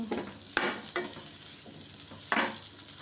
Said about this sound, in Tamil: லேசாக வதக்கினா போதும்.